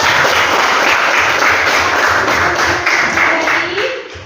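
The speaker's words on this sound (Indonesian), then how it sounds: "beri tepuk tangan untuk kita semua" Loud, close clapping from a classroom of students, a dense rapid patter of many hands that carries steadily before tapering off in the final second.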